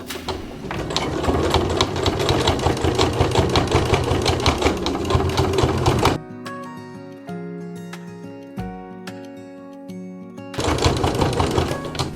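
A sewing machine stitches continuous bias binding with a 1/4 inch seam, running in a loud, steady whirr for about six seconds, then stopping, then starting up again near the end.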